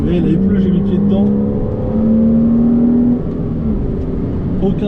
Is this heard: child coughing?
no